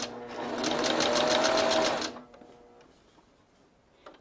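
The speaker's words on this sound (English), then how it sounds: "the needle's down, sew it, and then back stitch" Sewing machine stitching fabric forward and then back stitching, a fast, close mechanical whir with a rapid needle rhythm for about two seconds before it stops, leaving faint handling sounds.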